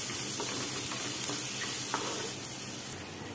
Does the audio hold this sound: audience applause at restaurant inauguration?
no